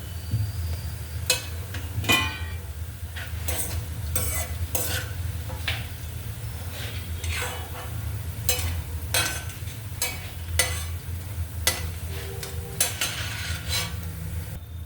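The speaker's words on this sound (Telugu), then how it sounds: "కాకరకాయ మొత్తం ఫ్రై అయింది, మెరూన్ కలర్ వచ్చింది" Bitter gourd pieces fry to a deep maroon in a pan, with a steady low sizzle and repeated sharp scraping stirs of the spatula throughout, close and fairly quiet with no talking.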